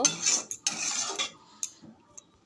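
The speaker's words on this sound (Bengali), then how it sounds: "জল দিয়ে ভালো করে একটু নেড়ে নেব।" Metal clinks and scrapes as potato curry in a pan is stirred after water goes in, a few quick bursts that thin into quiet gaps and a final light tap.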